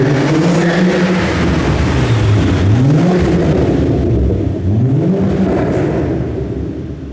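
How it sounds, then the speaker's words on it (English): A Volvo V70R car engine revs and accelerates loudly, rising and falling in pitch through several sweeps, close and dominant before easing off toward the end; no voices. "I love the way that car sounds"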